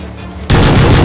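Gunfire erupts in PUBG, close and very loud, a dense burst of rapid automatic shots that starts abruptly after a quiet half second and continues to the end.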